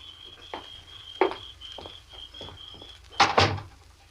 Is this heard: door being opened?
yes